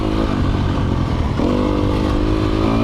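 A 2020 Sherco 300 SEF Factory dirt bike being ridden, its engine droning steadily and close with a slight rev change midway, no talking.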